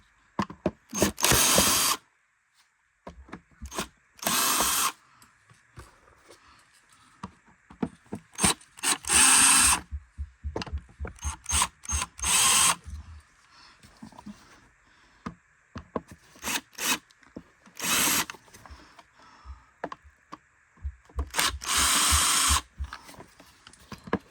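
A power drill backs screws out of the brush plate of a Bissell CleanView Rewind vacuum in loud, close bursts, several separate whirring runs with quiet pauses and handling noises between them.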